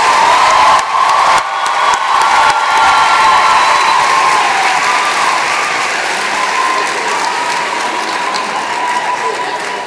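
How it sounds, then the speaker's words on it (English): A large audience at a graduation ceremony applauds the graduates, dense continuous clapping with some cheering, loud and steady for several seconds before easing slightly. "Please give one more round of applause for the graduates from the College of Liberal Arts."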